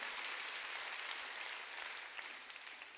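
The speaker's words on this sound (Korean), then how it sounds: "박수로 하나님께 영광을 돌리라는 겁니다" A church congregation at Sunday worship claps together, a soft, distant wash of many hands that stays steady and gradually eases toward the end.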